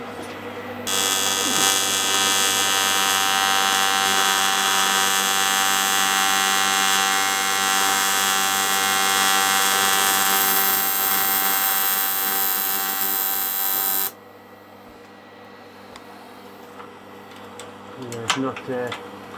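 A TIG welder, an R-Tech AC/DC TIG 261TFT, works on a zinc-rich aluminium alloy cylinder head, giving a loud, even electric buzz for about thirteen seconds that stops abruptly, followed by faint clanks.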